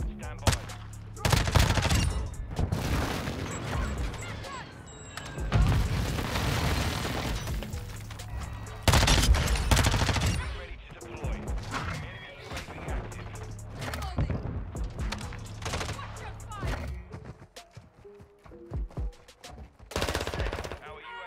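Gunfire in Call of Duty Modern Warfare 2 from a Lachmann Sub submachine gun, with repeated rapid automatic bursts, some loud and close, others lighter, spread across a chaotic multiplayer fight with players talking between bursts.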